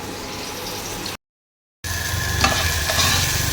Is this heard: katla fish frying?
yes